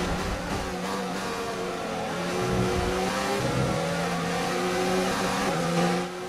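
Formula 1 race cars accelerating in the F1 2019 racing game, loud engine notes rising and shifting as cars pull out of corners, with several cars overlapping in a continuous roar that swells midway.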